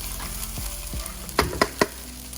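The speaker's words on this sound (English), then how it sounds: "Mix it till the butter is dissolved." Shrimp fried rice with butter and black pepper being stirred in a sizzling pan, with a steady fry hiss and three sharp spatula scrapes near the end.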